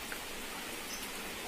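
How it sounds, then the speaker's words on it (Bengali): Rain falls steadily outdoors, a soft, even patter and hiss heard at moderate distance without a break. "এই যে বৃষ্টি পড়ছে"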